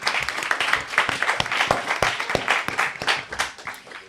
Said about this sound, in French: Vous avez le droit d'applaudir à tout moment.